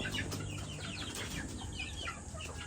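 Boston Roundhead gamefowl chickens on a breeding farm cluck repeatedly in short, nearby bursts over a steady background.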